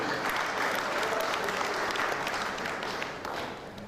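Audience at a Baptist Boys High School 103rd anniversary ceremony giving the ambassador another round of applause; full, even clapping from many people that holds steady, then thins and fades slightly toward the end.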